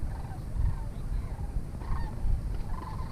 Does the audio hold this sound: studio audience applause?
no